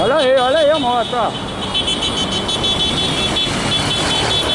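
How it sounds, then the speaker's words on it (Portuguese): Motorcycle passing through street traffic, engine noise rising and fading close by amid car sounds, while people talk loudly over it. "Olha aí a moto, ó."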